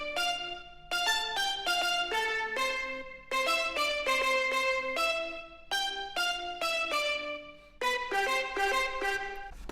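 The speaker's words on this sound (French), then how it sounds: "ça sonne un peu comme un marimba exotique et ça sonne comme ça." A bright, marimba-like mallet instrument plays a Latin-style reggaeton melody built on basic chords, with quick repeated plucked notes grouped in short rhythmic phrases and brief pauses between them, heard alone and fairly quiet.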